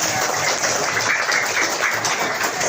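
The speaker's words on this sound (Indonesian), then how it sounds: "Tepuk tangan dulu buat kita semua." Children in a primary school classroom clap together, a steady dense patter of small hands filling the room briefly without any talk.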